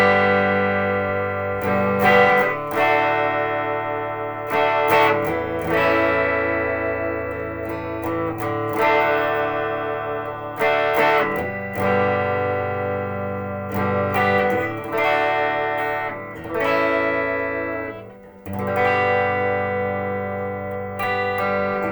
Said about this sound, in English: And now I will switch it over to the blues setting on the amp.